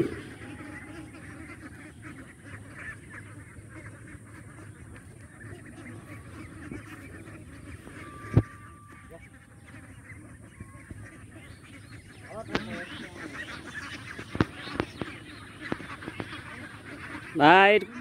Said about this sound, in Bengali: এটা কি জাতের হাঁস?